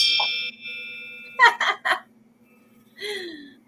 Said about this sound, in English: Just ring it multiple times. But yeah, and it has its striker.